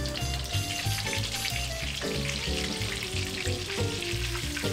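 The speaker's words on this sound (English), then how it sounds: "I don't want to eat raw pork, so I usually deep fry it for 5 minutes." Pork cutlets deep fry in hot oil for tonkatsu, making a loud, steady, dense sizzle and crackle from close by that never lets up.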